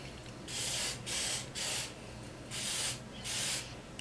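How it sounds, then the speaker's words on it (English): Five short hissing bursts from an aerosol hairspray can, close up, each lasting about half a second with brief pauses between. "I'm going to spray this with hairspray."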